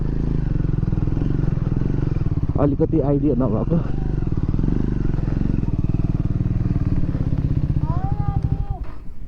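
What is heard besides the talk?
motorcycle riding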